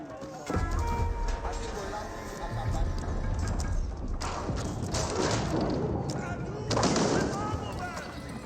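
Cavalry scouts in the real-time strategy game Age of Empires 4 drum along with rapid hoof clatter, mixed with bursts of gunfire and bombard thuds from a dense battle, under steady commentary.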